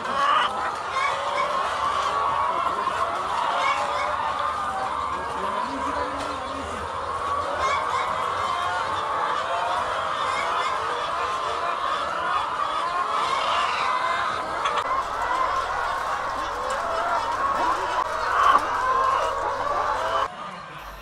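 Laying hens cluck steadily inside a spacious coop, a dense continuous chorus of many birds at moderate distance with no voices over it.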